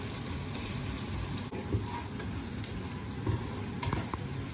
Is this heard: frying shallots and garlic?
yes